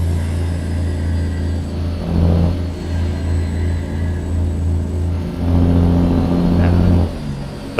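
A heavy truck engine from an American Truck Simulator sound mod drones with a steady low rumble, swelling twice as it revs and accelerates, loud and continuous with no voices.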